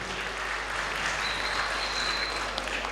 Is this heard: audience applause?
yes